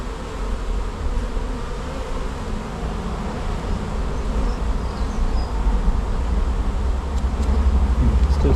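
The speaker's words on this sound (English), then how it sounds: "bees fanning here." A swarm of bees inside a bin, with some fanning: a dense, steady drone that grows slightly louder and fuller toward the end, with no talking.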